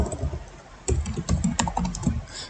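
Fingers tap on a computer keyboard during data entry, with irregular bursts of close, crisp keystrokes after a brief pause, no voices.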